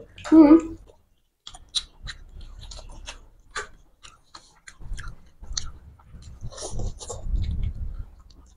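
Spicy whole fish curry with rice eaten during an eating competition, with wet, clicky chewing and smacking up close in irregular bursts, a brief pause early on, and faint voices in the background.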